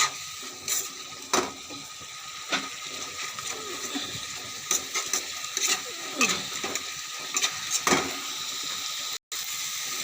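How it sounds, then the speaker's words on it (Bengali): Spoon scraping and stirring masala spice paste frying in a pan, with irregular clinks and scrapes over a constant soft sizzle, close up and without talk. "মশলাটা ভালো করে কষিয়ে নেব।"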